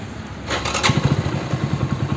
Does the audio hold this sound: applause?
no